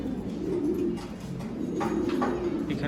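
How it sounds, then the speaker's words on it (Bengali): Pigeons of the Brother Stephen line coo softly and steadily inside a loft, low repeated burbling calls over a busy background with faint chirps. "ব্রাদার স্টিফেন লাইনের কবুতর।"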